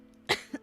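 A single short, soft cough from someone with an itchy throat, followed by a faint throat-clearing sound, close and quiet.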